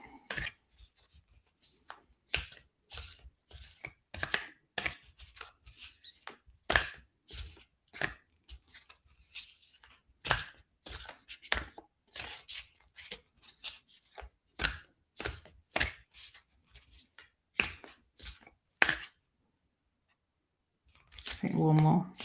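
Tarot cards are shuffled by hand in a quiet room, giving repeated short crisp riffling bursts at a steady, slightly uneven rhythm, close and clear, and a voice speaks briefly at the end.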